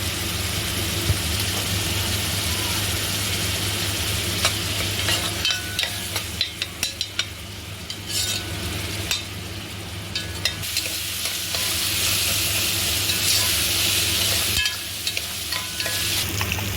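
Tomatoes fry in a pan with onions for a quail gravy, giving a loud, steady sizzle broken by scraping stirring strokes and clattering, with a brief rise in intensity near the end.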